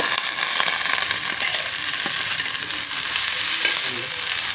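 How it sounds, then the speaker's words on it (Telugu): Boiled grated cabbage frying with onions in a pan, a steady loud sizzle with faint stirring scrapes running through, no voices. "ఇప్పుడు బాయిల్ చేసి పెట్టుకున్న క్యాబేజీ తురుగుని ఇందులో వేస్తుంటారు"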